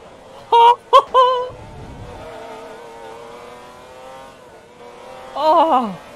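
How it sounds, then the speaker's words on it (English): A McLaren F1 sports car engine in the video game Forza Motorsport 2 gives a few sharp revs, drops to a smooth humming idle, then revs up again near the end. "Oh my god, I got so distracted by the engine noises."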